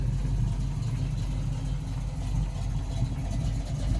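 A 1971 Chevrolet Nova engine idles with a steady low rumble, close and constant throughout, with no talking.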